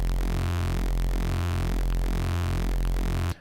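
Synth bass pushed through a saturator so it sounds broken, a loud, buzzing, fuzzy low tone pulsing in a steady rhythm, heard alone for a few seconds before stopping.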